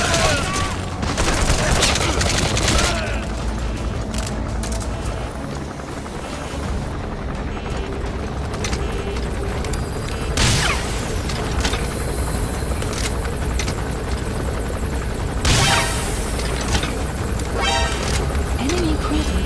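Enemy gunship attack in Metal Gear Solid V: The Phantom Pain, with a constant helicopter rotor drone under repeated bursts of heavy gunfire and sharp impacts, loud and close, with brief game voices mixed in.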